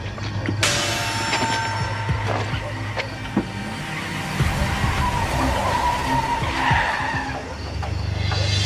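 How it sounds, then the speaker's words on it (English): Car tires screeching as a dark red sedan peels out: a sudden sharp squeal followed by a sustained high-pitched skid over an engine rumble, loud and close, with faint background noise. "I heard car tires screeching"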